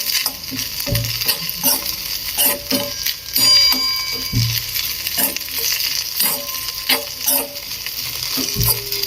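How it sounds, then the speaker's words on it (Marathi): Crushed peanut powder stirred into a sizzling dish in a pan, with rhythmic scraping stir strokes and light ticking clinks over a steady frying hiss, close and fairly loud. "आता टाकते शेंगदाणचं कूट छान असं मिक्स करते"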